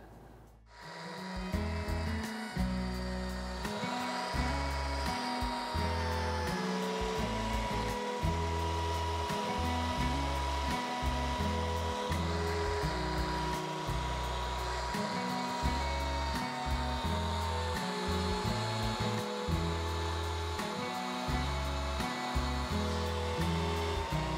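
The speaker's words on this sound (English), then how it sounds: "So we're going to put that on the sander." A power sander runs steadily against a wooden ring, a loud, continuous whirring grind with a slight shifting pitch as the wood is evened out, no voices.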